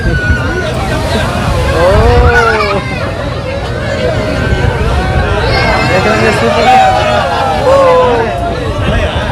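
Water sloshes and splashes steadily against a ferry boat hull off Kanyakumari, India, near the Vivekananda Rock Memorial, beneath a constant hubbub of crowd chatter and voices.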